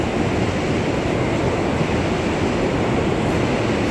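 Storm water pours hard into an NYC subway station, a loud, dense and unbroken rushing wash like heavy surf, steady for the whole stretch with no voices.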